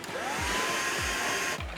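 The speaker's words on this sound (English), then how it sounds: "next to a vacuum." A loud, steady motorized whoosh drones throughout with an even airy hiss and a low hum, cutting off abruptly near the end.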